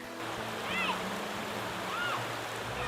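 Children splash while rinsing off in a flowing river, with steady rushing water throughout and a couple of faint high chirps or calls over it.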